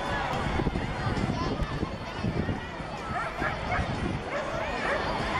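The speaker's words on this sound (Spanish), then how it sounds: "El perro ya va buscando." Police dog barking and yipping during a search exercise at an international police and military canine event, with rapid, excited barks and whimpers running throughout over continuous background talk and crowd noise.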